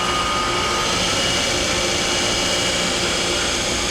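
A Myford plunge grinding machine starts its hydraulics and grinding wheel, producing a loud, steady broadband whir and hum that stays constant throughout.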